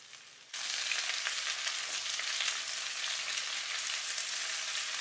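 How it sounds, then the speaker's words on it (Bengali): Vegetables for Bengali dudh shukto frying in a pan: a dense, even sizzle starts abruptly after a brief quiet moment and then holds steady and close for the rest of the clip. "সবগুলো সবজিকে ভালো করে ভেজে তুলে নেব"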